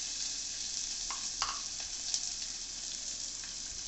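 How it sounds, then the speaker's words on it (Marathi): Chopped onion frying in a pan of hot oil with curry leaves in the tempering, a soft, continuous sizzle with a few faint scrapes and clicks of stirring. "कांदा घेतला एक चिरून, तो पण टाकलाय तेलामध्ये फ्राय व्हायला"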